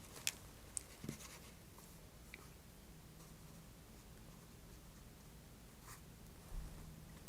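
A pen scratches softly on paper during a calm nursing exam roleplay for a head injury, faint close strokes and occasional small taps over a quiet hiss, with no voice.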